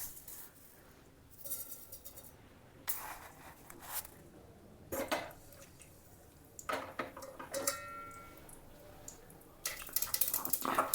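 Mustard seeds drop into hot oil in a pan, giving scattered faint ticks and small crackling bursts that come and go, quiet and close, with no talk.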